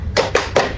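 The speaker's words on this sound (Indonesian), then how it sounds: "Gimana kalau sekarang kita tepuk semangat dulu?" Three sharp claps from a group of children doing a rhythmic spirit clap in a primary school classroom, evenly spaced in a quick pattern, close and fairly loud, with no talking.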